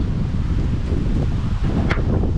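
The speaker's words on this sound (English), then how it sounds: "it's so windy and it's blowing this way" Strong wind buffets the microphone with a deep, rumbling roar and gusty rustling, loud and constant throughout.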